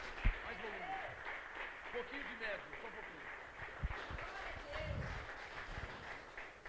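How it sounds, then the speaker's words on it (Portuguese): A church congregation applauds together, a dense, steady clapping that fills the room at moderate loudness, with a voice speaking over it. "Mais palmas ao Senhor Jesus."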